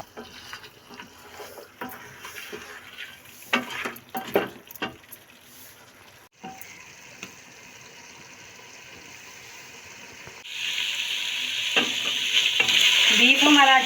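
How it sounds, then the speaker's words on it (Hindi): Beef and tinda (Indian round gourd) stir-fried in a pan, with scraping and stirring strokes in the first half, then a steady sizzle that swells louder toward the end. "अब हम इसमें टिंडे डालेंगे और इसे तकरीबन 4-5 मिनट तक भूनेंगे।"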